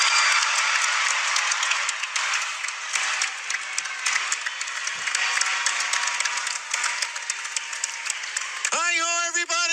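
A graduation crowd applauds in a dense, steady wash of clapping, and a voice cuts in just at the end.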